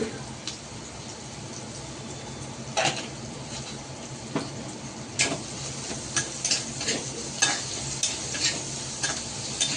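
Bitter gourd sautéing in spice masala: a constant low sizzle broken by repeated spatula clicks and scrapes against the pan, close and fairly steady.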